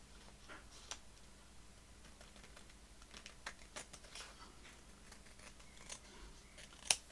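Paper is trimmed for a concertina journal page, giving faint, quiet snipping and crisp ticking cuts in an irregular series, ending with one sharper snap.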